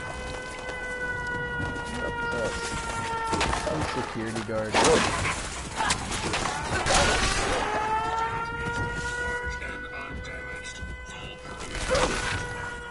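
Civil defense sirens wail in the video game Fallout 4, several rising and falling tones layered over gunfire bursts and game noise, with someone talking over them.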